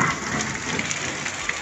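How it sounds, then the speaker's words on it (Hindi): Heavy rain pours onto a cement sheet roof beside farm fields, making a dense, continuous drumming hiss with scattered sharper drop impacts, heard close and alone. "बहुत ही ज़्यादा बारिश हो रही है। और जैसा कि आप देखिए ये सीमेंट की चादर है और आपको आवाज़ आ रही होगी"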